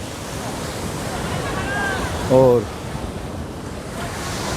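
Ocean waves roll onto Puri beach in a steady, broad wash of surf with wind buffeting the microphone, while someone speaks briefly over the noise.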